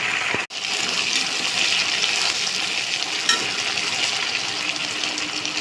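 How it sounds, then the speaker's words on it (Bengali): Cumin seeds fry in leftover fish oil in a pan, giving a steady bright sizzle with one sharp knock near the start, continuous and close with no talking. "জিরে দিয়ে দিলাম জিরেটা একটু ভাজা ভাজা হয়ে যাক"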